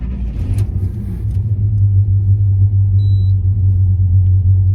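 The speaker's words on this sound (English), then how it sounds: "let's go ahead and fire up the vehicle and have a listen to the motor." A 1970 Chevy El Camino with a Blueprint 350 V8 making 420 hp, a mild cam, custom exhaust pipes and a TH400 transmission, starting and then settling into a loud, deep, steady idle rumble, close up, with no talking.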